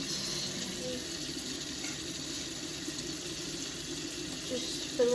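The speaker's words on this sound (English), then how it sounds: "So first you're just gonna rinse it," Steady water runs from a faucet into a sink while a drinking straw is rinsed, a constant close hiss and splash with faint background voices and a small clink at the end.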